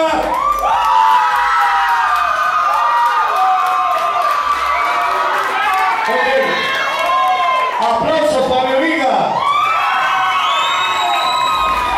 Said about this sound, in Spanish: Aplausos para mi amiga.